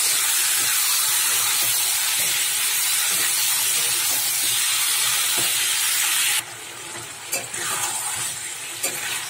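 Meat sizzles loudly in a pan with fried onions, a steady continuous hiss of sautéing punctuated by occasional stirring scrapes, growing a little harsher in the last few seconds.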